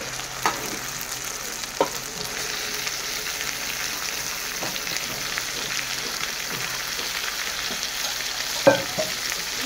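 Mutton frying in a pan with onions and tomatoes, a constant rain-like sizzle that runs throughout, punctuated by a few spaced knocks and scrapes of stirring, close and moderate in level, no speech.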